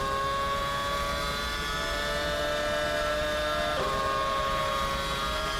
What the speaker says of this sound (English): Hear that nice reverberation effect as we go between the pit wall and the grandstand here.